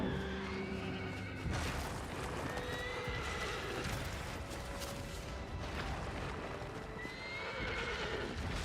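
A horse in the Shadow of the Colossus game neighs several times in shrill whinnies over steady clip-clop hoofbeats, with a rumbling game backdrop and no voices.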